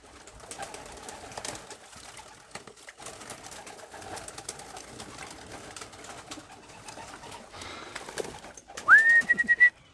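Young racing pigeons coo and flutter softly during bath time, a low murmur of birds nearby, ending with a brief sharp rise in flapping and splashing.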